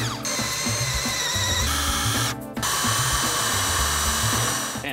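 Power drill boring holes into a laundry room wall, a loud close whining motor run nearly continuous, with a brief pause and restart midway.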